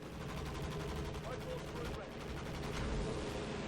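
A strafing run in the video game Company of Heroes 2 produces dense, sustained machine-gun fire and rattling bursts that stay loud throughout, with a voice faintly underneath.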